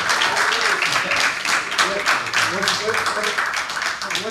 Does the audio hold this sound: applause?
yes